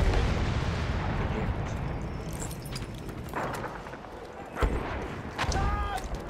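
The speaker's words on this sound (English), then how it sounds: "Crossbow mortar." Crossbow mortar explosions in the Battlefield 1 video game come as dull, heavy booms over a constant rumbling battlefield din, with one sharper blast standing out near the end.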